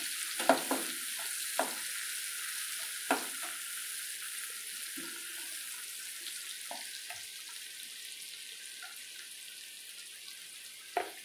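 Onion sautés in a pan for a Rajasthani besan gatta curry, a constant hiss of frying with occasional spoon knocks against the pan scattered throughout, fairly close and without speech.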